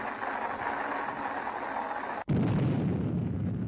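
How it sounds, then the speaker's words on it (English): Atomic bomb test explosions at Yucca Flat, Nevada, heard as a sustained rumbling roar that abruptly cuts to a deeper, heavier booming rumble, loud and continuous on an old film soundtrack. "On the sandy wastes at Yucca Flat, Nevada, a new series of atomic explosions are set off."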